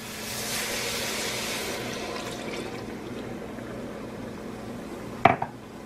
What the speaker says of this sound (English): next we're going to deglaze our pan with 12 ounces of stout